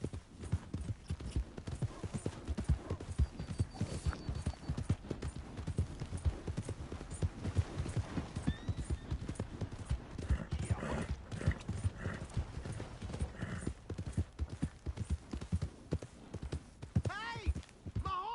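Horse hooves clip-clop at a steady walking rhythm in Red Dead Redemption 2, with occasional snorts and a whinny near the end, fairly faint and under intermittent talk.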